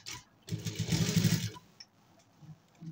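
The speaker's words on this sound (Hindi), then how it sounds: "तो शुरू करते हैं यहाँ पर सिलाई ठीक है।" A tailor's sewing machine stitching a coat runs in a rapid, close, steady burst for about a second, then falls quiet with only faint clicks and handling noises, no talking.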